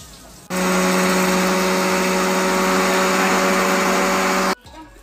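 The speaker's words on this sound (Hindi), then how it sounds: "हम एक ग्राइंडर ले लेते हैं, इसके अंदर हम हमारी हरी मिर्चें डाल देते हैं और जो लहसुन की कलियां हैं वो डाल देते हैं और इन्हें हम ग्राइंड कर लेते हैं" A kitchen grinder blends green chillies and garlic cloves into a coarse paste, a loud steady motor whir with a strong hum that starts abruptly, runs about four seconds without pause, then cuts off.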